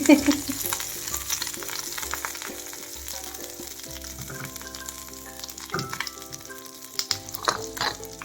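Pomfret fish pieces frying in a pan with curry leaves and coriander, a steady close sizzle over a faint musical backdrop with a few brief clinks and stirs, no talking.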